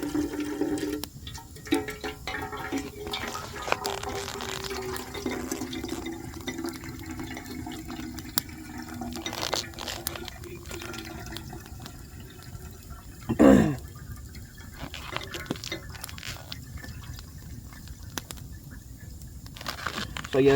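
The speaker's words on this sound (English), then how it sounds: "filtering a liter of water in under a minute for sure" Creek water running through a camping water filter on a winter bushcraft trip, a steady hissing trickle and splash lasting throughout, with a brief louder gush near the middle.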